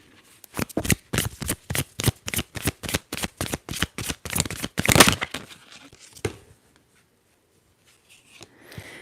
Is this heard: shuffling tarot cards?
yes